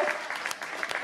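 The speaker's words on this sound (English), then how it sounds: "Give her a round of applause, you guys." Short burst of audience applause at a horror make-up show at Universal Studios, scattered claps from a modest crowd, fairly faint and brief.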